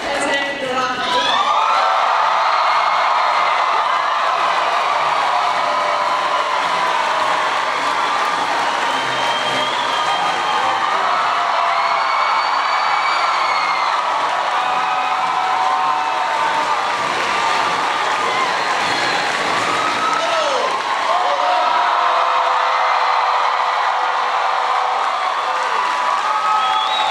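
A large crowd at a college hall applauds and cheers for President Obama, a dense, sustained roar of clapping and shouting that stays loud from start to finish with a few whoops rising above it.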